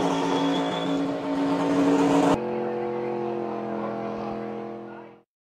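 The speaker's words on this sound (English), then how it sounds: "Cal Weathers doing a burnout because he is the champion of 2023." Race car burnout in a stop-motion scene: a loud, continuous engine roar with a sharp drop in intensity midway, then a steady sustained note that cuts off abruptly.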